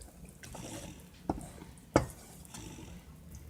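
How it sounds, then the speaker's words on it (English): A spoon stirs a corned beef stew in a cooking pot, with soft scraping and gentle bubbling under two sharper knocks against the pot's side. "all we want to do is to just stir everything in"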